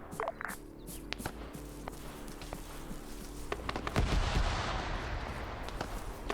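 Gunfire in the Arma 3 military video game during an island assault, with scattered sharp shots and bursts, some distant and some closer, ending in a denser, louder volley.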